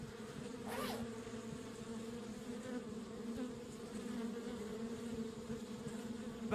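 Continuous droning hum of bees in the Kelvin and the Infamous Machine video game, a steady swarm buzz with one quick whoosh early on.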